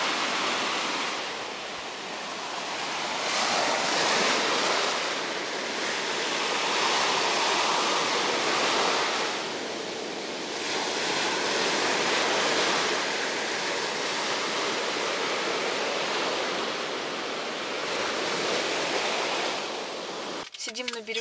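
Waves of the Sea of Azov washing onto a winter shore, heard as a steady broadband surf roar that swells and eases in slow cycles, close and fairly loud, with no talking, ending in a brief rustle.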